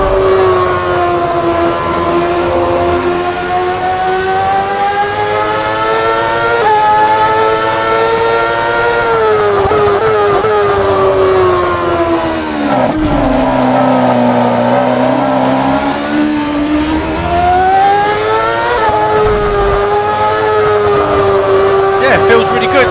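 A 2009 Ferrari F60 Formula 1 car in Assetto Corsa screams at high revs, its engine note climbing and dipping through gear changes in a sustained, loud, whining drone with rising and falling pitch.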